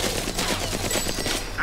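Gunfire in a busy fight in the video game Battlefield Heroes: a rapid, continuous rattle of shots, fairly loud and steady for the short duration.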